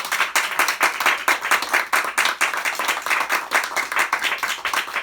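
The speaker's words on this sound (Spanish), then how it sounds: "un aplauso al Espíritu Santo." A church congregation claps during a Spanish-language sermon, many hands clapping in a loud, slightly uneven rhythm that keeps going steadily, with no talking over it.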